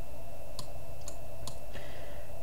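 Four crisp computer mouse clicks spaced roughly half a second apart while working in MS Word, sharp and close against a faint steady hum.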